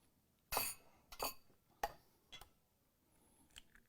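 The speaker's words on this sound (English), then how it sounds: "I'm gonna crack 3 eggs in a little bowl here." Three eggs are cracked into a small bowl on a flat kitchen surface: a few sharp, close taps and clinks of shell against hard surface, spaced a moment apart in a quiet setting.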